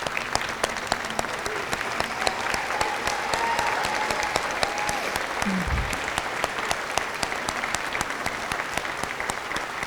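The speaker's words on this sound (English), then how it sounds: "I just want all of the scholarship recipients to please stand for a round of applause." A room of people gives a sustained round of applause for scholarship recipients at a scholarship reception. The clapping is steady, dense and fairly close, with faint voices underneath.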